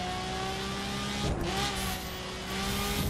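A Lamborghini engine revs in the racing video game The Crew, a sustained close engine drone that rises and falls with throttle, with no talk.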